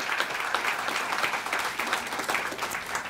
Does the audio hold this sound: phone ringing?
no